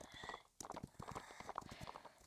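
Horse hooves clip-clop steadily in Roblox Wild Horse Island, a quick rhythmic run of light hoofbeats at moderate volume with no talk over them.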